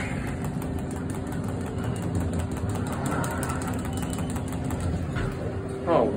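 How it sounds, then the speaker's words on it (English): Inside a KONE Monospace elevator cab at a DFW airport Skylink station, the ventilation fan runs with a steady low hum and whir, under faint background noise. "Oh, this one, the fan's on."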